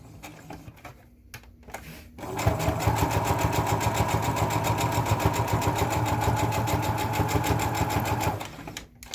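A sewing machine stitches a bow tie after a short pause, its needle chattering in a fast, even, mechanical rhythm that runs steadily for several seconds before stopping, close and loud.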